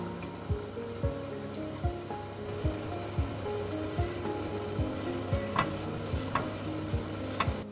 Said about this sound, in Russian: И обжариваем на оливковом масле с двух сторон, недолго.